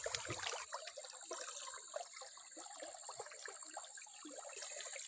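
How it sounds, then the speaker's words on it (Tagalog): Strong water gushes steadily from a spring-fed pipe into a fish pond with tilapia, a continuous close splashing flow with no talk over it. "malakas ng tubig ngayon."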